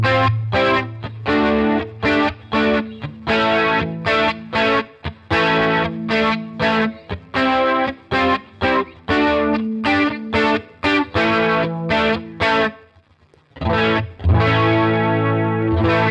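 Electric guitar played through Amplitube 5 X-Gear pedals with a chorus effect on the bridge pickup, its distorted, shimmering chords struck in rhythmic bursts, pausing briefly before one final loud strum.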